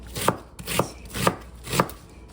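Vegetables for a taco salad topping are chopped on a cutting board with a knife, four evenly spaced crisp thuds close up, with nothing else heard.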